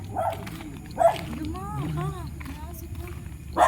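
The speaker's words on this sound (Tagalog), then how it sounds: "May aso naman dito." A dog barks a few times at moderate distance, sharp yelps amid background chatter and ambient noise.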